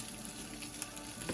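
Bologna frying in butter in a hot pan, giving a steady close sizzle throughout with a brief sharp pop partway through and no talking.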